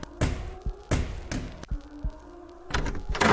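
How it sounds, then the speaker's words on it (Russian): A door bangs and thuds several times in quick, heavy knocks, then rattles and slams open with loud, close impacts. "Дверь с грохотом открылась"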